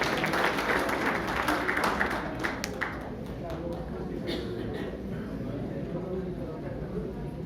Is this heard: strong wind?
no